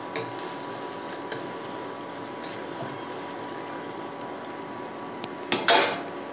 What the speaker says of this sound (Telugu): కొత్తిమీర మధ్య వరకు తిప్పుకుంటున్నాను.